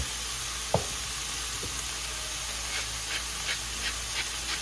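A steady, even sizzle from a pan of sautéed sofrito seasoned with ground black pepper, the base for beef mechado, with a sharp utensil tap early on and a few soft clicks later; no voices.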